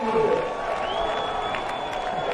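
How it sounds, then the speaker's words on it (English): A crowd cheers and roars steadily at a professional surf contest in Rio, a broad wash of noise heard at a distance. "And the crowd goes wild."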